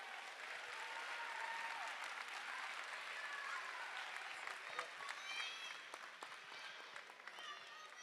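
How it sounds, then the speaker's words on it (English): Sustained applause with cheering from a crowd in a school gym after a high school varsity basketball game, steady and dense for the whole stretch, with a few whoops and voices rising above it. "Give them a round of applause, let's go."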